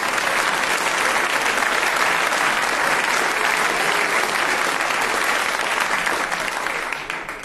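A large audience at a German cabaret performance by Volker Pispers bursts into sustained, dense applause that stays loud and even before tapering off at the end.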